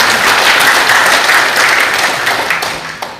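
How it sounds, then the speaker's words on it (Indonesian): Audience applause at an education officials' briefing session in Indonesia, a dense, steady wash of many hands clapping close by for about three seconds, fading slightly at the end with no talk over it. "Kita beri tepuk tangan."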